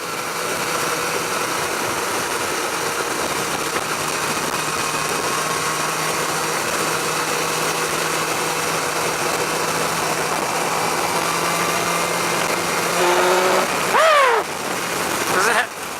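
A BMW S1000XR motorcycle cruises in sixth gear at about 65 mph, its engine a steady loud drone with rushing wind throughout and a brief rise in the last seconds.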